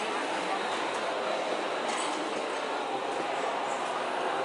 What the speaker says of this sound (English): That's got to be a royal train or something